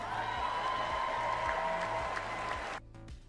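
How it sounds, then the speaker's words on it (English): Steady applause from a studio or hall audience fills the space for nearly three seconds, then drops sharply to a thinner, scattered patter of clapping at the end. "Just eating up the applause"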